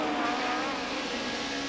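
In-car engine roar from Steve Soper's touring car during BTCC 1991 round 1 racing, a loud continuous drone with steady high-pitched whine, no talk.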